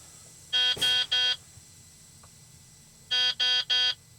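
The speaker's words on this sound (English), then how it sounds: "I'm going to let the cycle run through so the beeping stops." Two bursts of three sharp electronic warning beeps each from a truck dashboard, evenly spaced, with a quiet pause between the groups over a low steady hum.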